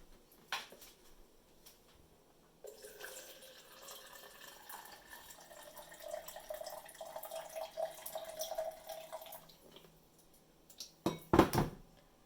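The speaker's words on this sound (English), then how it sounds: "I'm going to pour in 2/3" Water runs steadily into a measuring cup for several seconds, its pitch rising as it fills, followed by a few clinks of dishware at the end.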